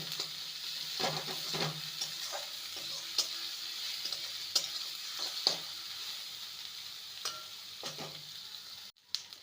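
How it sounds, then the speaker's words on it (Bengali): Ginger garlic paste fries with onions in a pan for an egg and cabbage dish, a soft continuous sizzle broken by repeated light clinks and scrapes of stirring, with no voices. "এবারে দিয়ে দেবো আদা রসুন বাটা একসঙ্গে ভালো করে আদা রসুনকে কষিয়ে নেব"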